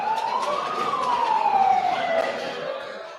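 An ambulance siren wails as the vehicle arrives at a hospital bringing casualties from an airstrike, a single loud tone that rises then slowly falls over a low traffic rumble.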